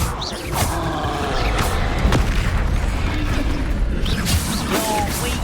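Incendio fire spell blasts in the Hogwarts Legacy video game during a duel, dense roaring whooshes and booms layered over busy combat noise, with a voice briefly heard.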